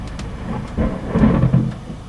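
Thunder from lightning striking close by during a Florida summer storm rumbles low and heavy in a short burst with a couple of swelling cracks, and light rain falls in the background.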